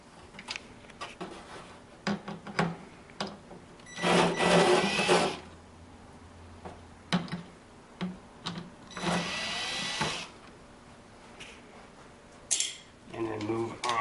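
Screws are backed out of a plastic side panel on a Comfortzone infrared heater with a small power driver, giving short bursts of whirring with clicks and handling noises between them, close up and fairly quiet.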